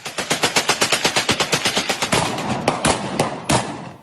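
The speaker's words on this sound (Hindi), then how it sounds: "हाथ में ऑटोमेटिक असॉल्ट राइफल लेकर फायरिंग करते हुए रोड पर चले जा रहा है" Sustained automatic rifle fire, loud and close, with rapid evenly spaced shots that slow to a few scattered rounds near the end.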